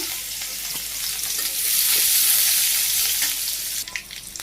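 Onions and cumin sizzle in hot oil in a wok, a steady loud frying hiss that swells in the middle and eases toward the end, with no talking.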